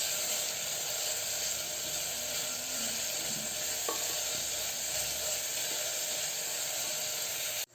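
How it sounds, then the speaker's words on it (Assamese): Sliced onions frying in a pan for Assamese pulao, a constant dense sizzle and hiss with light stirring, close and steady with no talking. "এতিয়া পিয়াজখিনি আমি ৰঙচুৱা নোহোৱালৈ ভাজি লম"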